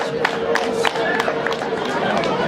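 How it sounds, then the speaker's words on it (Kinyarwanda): Wedding guests applaud and ululate together in a loud, continuous crowd roar. High trilling calls rise above dense clapping and chatter throughout. "dutange amashyi n'impundu"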